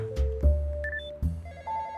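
A telephone rings inside the Roblox horror game The Border Experience, with short electronic tones over low game thuds and rumble, close and fairly loud, no speech.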